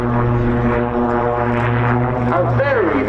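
Propeller aerobatic aircraft at the RAF Cosford Air Show, its engine a loud, steady harmonic drone that shifts in pitch near the end, with a commentator talking over it.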